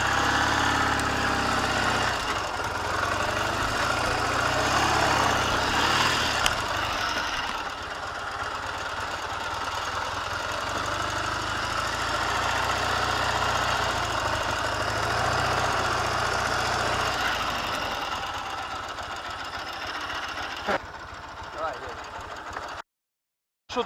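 A K750 motorcycle engine runs while riding along a rutted track on the way to an airsoft game, a continuous rough mid-pitched drone with rumbling, close and loud, as people talk over it before it cuts out at the end.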